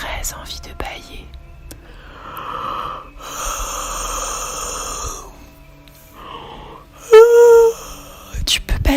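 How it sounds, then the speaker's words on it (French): A person yawns during a calming French bedtime meditation, with several soft, breathy drawn-out exhalations followed by a louder voiced yawn that rises and falls near the end. "Tu peux bâiller avec moi si tu veux."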